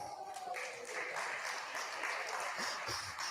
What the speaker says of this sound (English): I want to give a special round of applause to my partner, Kate Smith.